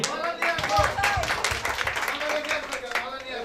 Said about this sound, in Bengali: সেটার জন্য সবাইকে সম্মিলিতভাবে একটা করতালি